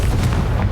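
A Confringo fire spell bursts in the Hogwarts Legacy video game, giving a loud, sustained booming rumble like a close explosion that carries through the whole moment with no pause.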